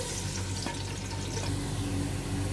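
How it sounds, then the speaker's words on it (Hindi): Medium-sized onion frying in hot cooking oil in a pan, a steady close sizzle with a few faint clinks, no talking. "कुकिंग ऑयल डाला है। एक अदद मीडियम साइज़ का प्याज डालेंगे और इसको हल्का सुनहरा कर लेंगे"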